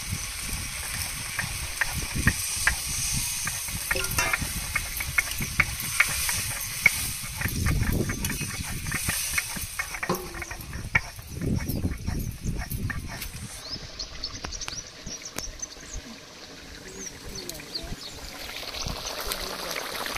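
Fish stock is poured into a hot cooking pan for a festive Bengali feast, giving a loud hissing, bubbling sizzle that fades to a softer, steady simmer.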